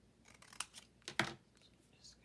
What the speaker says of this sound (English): we'll have to trim that down